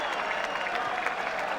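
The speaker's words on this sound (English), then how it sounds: "the entire Celtic bench rise to their feet and applaud" The Celtic bench and football crowd applauding a goal, steady dense clapping across a stadium, moderately distant and sustained without breaks.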